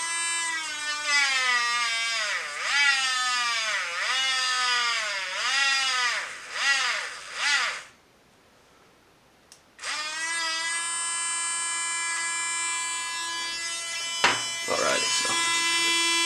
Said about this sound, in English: I'm going to take this polishing wheel. I want to try polishing this up a little bit.